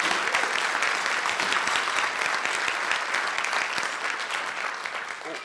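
An audience at a morning event bursts into loud, sustained applause for the union hotel servers, a dense clapping crowd that fades slightly toward the end.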